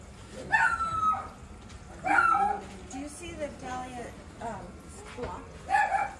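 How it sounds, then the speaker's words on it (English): A puppy at a batik factory yips and whimpers in short bursts, several high barks spaced a second or so apart, heard close alongside people talking. "That puppy doesn't want us here."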